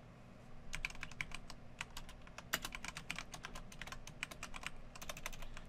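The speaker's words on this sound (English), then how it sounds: "habit of typing in the code." Code being typed on a computer keyboard during a Python programming lab: quick irregular clicking keystrokes in bursts with short pauses, close and fairly soft over a faint steady hum.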